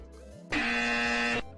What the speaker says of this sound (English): What was the incorrect buzzer?